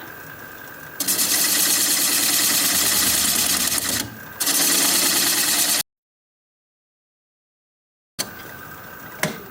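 A wood lathe spinning an end-grain, live-edge winged bowl at about 570 rpm, a steady loud mechanical whir that cuts off briefly, resumes, then stops in a gap of silence before running again.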